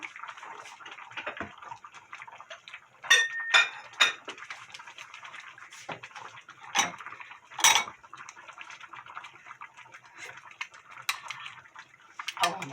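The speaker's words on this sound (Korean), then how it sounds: "제가 지금 그릇에 담아 볼게요" A ladle and utensils clink and scrape against a pot and bowl while mackerel and radish-greens hangover soup is served, with sharp metallic taps scattered over a soft, continuous background of kitchen noise.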